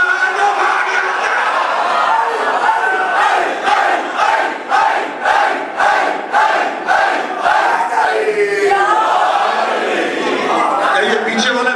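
A large crowd at a Muharram sermon gathering chants a religious slogan for Mola Ali, loud rhythmic bursts of many voices repeating in unison, close and full.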